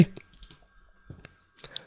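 A computer mouse clicking during OneNote use, with a few sharp, soft clicks scattered over a near-silent background and no talking.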